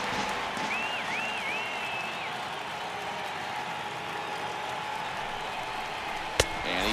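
Stadium crowd noise from MLB The Show 18 on PS4, Braves at Marlins: a steady, loud roar of cheering fans that holds level throughout, with a short sharp crack near the end.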